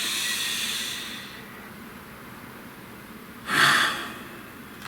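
A deep breath drawn in slowly and released, with a brief louder exhale near the end over a soft hissing background, no talking.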